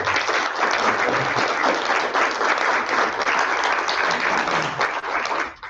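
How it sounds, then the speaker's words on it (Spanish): Audience at a lecture claps for a historian being introduced, sustained, even applause filling the room for several seconds before tapering off. "Un aplauso para él."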